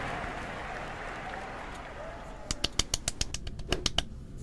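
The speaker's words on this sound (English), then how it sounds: "I was clapping. Really clapping for myself." Hand clapping in a run of about a dozen crisp, fairly quick claps that starts partway through, following a stretch of muffled background noise.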